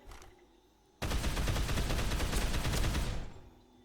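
A rapid automatic burst from a level 1 firearm in Dead Island Definitive Edition, starting abruptly after a quiet moment and rattling continuously for about two seconds before cutting off, loud and close.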